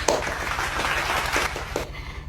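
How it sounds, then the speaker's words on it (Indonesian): Students applauding together in a classroom during a practice teaching lesson, a burst of moderate clapping lasting a couple of seconds with a low steady hum beneath and no talk. "Tepuk tangan untuk kita semua."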